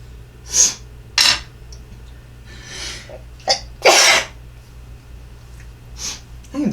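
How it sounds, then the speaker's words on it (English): Several sharp, loud sneezes burst out at close range one after another, separated by quieter breaths and sniffs. "I did not mean to sneeze all over everybody."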